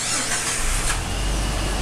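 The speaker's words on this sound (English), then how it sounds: "Start it up clean." A supercharged 2005-06 Jeep Wrangler TJ Rubicon on 36-inch tires, stock exhaust and manifold, cranks and starts: a brief starter squeal rises into a steady close, loud engine rumble.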